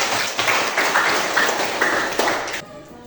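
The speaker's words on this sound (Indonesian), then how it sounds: "luar biasa, tepuk tangan" A school class applauding at the end of a lesson, several short bursts of clapping in quick succession, fairly close, ending abruptly after about two and a half seconds.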